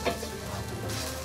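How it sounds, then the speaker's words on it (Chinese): Lion's mane mushrooms pan-frying in oil, an even close sizzle with a short scrape at the start, steady and unbroken. "稍微给它煎一下，表面会比较香。"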